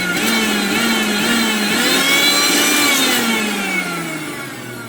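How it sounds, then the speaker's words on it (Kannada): Motorcycle engine revved under the throttle, a loud, close, continuous mechanical roar whose pitch climbs and falls with each twist of the accelerator, then tapers slightly at the end, with no talk. "ಬೈಕು ಆಕ್ಸಿಲೇಟ್ರ್ ಕೊಡ್ತೀನಿ ಈಗ."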